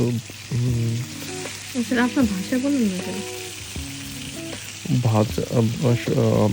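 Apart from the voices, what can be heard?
hilsa fish frying in oil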